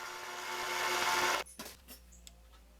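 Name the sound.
mini metal lathe turning a small brass part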